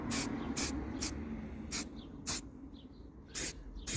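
Short bursts of primer spray on car wheels, about seven separate hisses at uneven intervals, close and fairly loud with quiet pauses between them.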